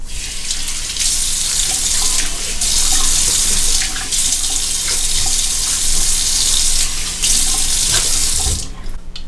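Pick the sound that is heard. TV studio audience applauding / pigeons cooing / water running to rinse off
water running to rinse off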